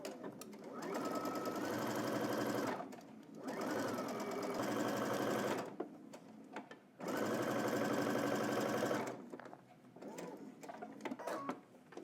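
Sewing machine back stitching a jumpsuit seam, running in several steady whirring stretches of a few seconds each, broken by short pauses and light mechanical clicks.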